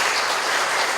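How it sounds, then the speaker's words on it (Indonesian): A brief burst of dense, even applause fills a government meeting hall as officials clap for village heads, heard close and alone. "saya berikan apresiasi, tepuk tangan buat."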